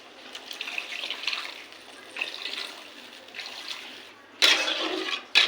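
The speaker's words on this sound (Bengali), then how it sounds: "এবার দিয়ে দেবো সর্ষে বাটার জল" Mustard paste water poured into hot oil in a pan for a fish curry, giving an uneven splashing, sizzling wash with a sharper, louder burst near the end.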